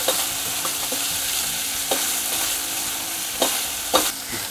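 Finely chopped curry leaves fry in hot oil for a green moong usal, a loud continuous sizzle with a ladle stirring and scraping the pan in several distinct knocks.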